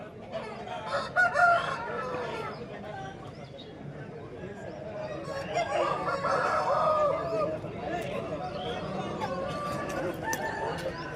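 A rooster crows nearby while hens cluck throughout, with people talking over the poultry noise in a busy outdoor poultry market in Vijayawada.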